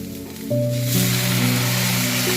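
Onions and beef for a beef vindaloo sizzle loudly in a hot pan as vinegar is poured in. A steady hiss rises sharply partway through, with a faint tonal hum running underneath.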